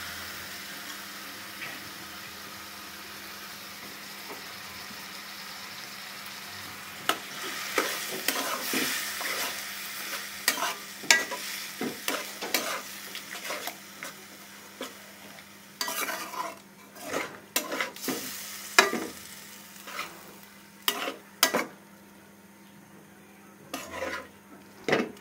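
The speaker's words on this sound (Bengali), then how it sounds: "এখন ভালোভাবে কষাতে হবে।" Ginger, garlic and cumin paste is stirred and sautéed in a pan with a splash of water for a rohu fish curry. Soft sizzling runs steadily underneath, and a spoon scrapes and knocks against the pot in bursts that grow busier, with no talk.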